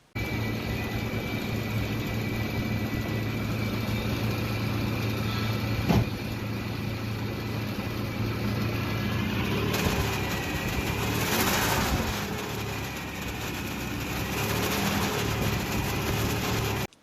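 A 1974 Dodge Charger's engine drones at a fast, steady high idle without letup, with a brief clack and some rising rattle midway.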